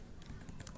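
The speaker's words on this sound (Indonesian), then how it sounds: "bisa ngetik di sini ya" Rapid keystrokes on a computer keyboard, a quick run of close, crisp clicks over a brief stretch, with no voices.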